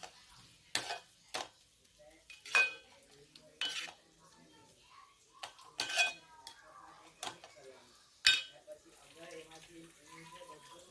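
Spoon stirring flattened rice (poha) mixed with green chutney and coriander-cumin powder in a pan, giving scattered scrapes and clinks of metal against the pan at an uneven pace, close and fairly quiet.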